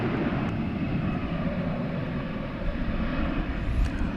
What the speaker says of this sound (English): Like this one to Las Vegas. American Flight 2998, an Airbus A321.